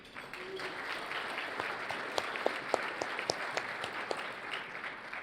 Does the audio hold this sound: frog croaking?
no